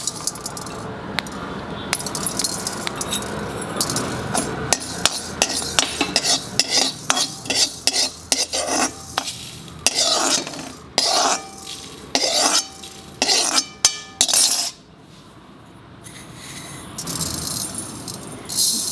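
Fenugreek, mustard seeds and spices dry roasting in a pan while a utensil stirs them, giving a dense run of rapid metallic scrapes, taps and rattles close by that breaks into short bursts before going quiet.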